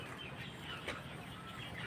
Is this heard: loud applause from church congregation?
no